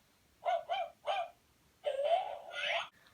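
A small electronic toy dog yaps three quick times, then gives two longer, drawn-out barks, clear and close against a quiet background.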